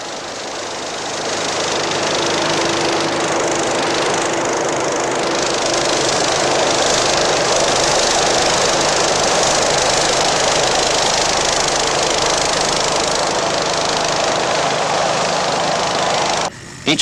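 Thrust engines of a trailable hovercraft-style craft run steadily and loudly for the whole stretch, a continuous broadband engine roar with a faint low hum and no speech.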